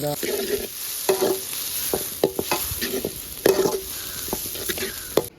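Onions and green chillies fry in a pan while being stirred, a soft steady sizzle broken by repeated clinking scrapes of a spoon against metal, close up, with no talking.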